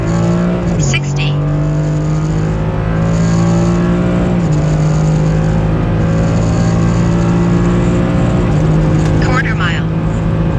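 A 2021 Ford F-150 pickup on new wheels and tires drones loudly on a street drag run from the cabin, its engine climbing steadily with short dips at each gear shift.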